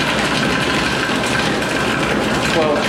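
A hotel ice machine runs in a basement corridor, giving a steady, loud mechanical hum and broadband whir with a low drone that holds unchanged throughout.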